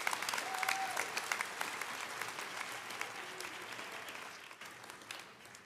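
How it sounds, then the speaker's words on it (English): Audience applause at the investiture of President Maurice D. Edington, a dense wash of many hands clapping that starts strong and slowly tapers over several seconds, with no talking. "Can we offer President Edington another round of applause"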